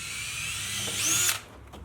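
A power drill whirs steadily at close range while drilling into an old boat, its pitch rising briefly before it cuts off, leaving a quiet room.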